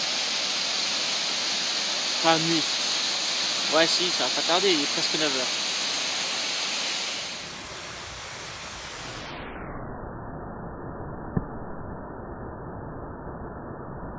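A waterfall at a bivouac campsite at nightfall roars as a steady broadband rush of falling water, while someone speaks briefly over it before the sound drops and dulls.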